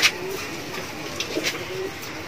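Fill bag pigeons coo in a loft in Magura, Bangladesh, producing soft, low rolling calls, with faint chirps and one sharp bird note over a constant background murmur.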